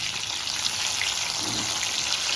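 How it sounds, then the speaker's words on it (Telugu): Drumstick (moringa) pieces fry in a pan for chutney, giving a steady, close, dense sizzle and crackle that holds evenly throughout with no voices. "ఇవన్నీ ముక్కలన్నింటినీ ఇలాగ వేయించుకోండి"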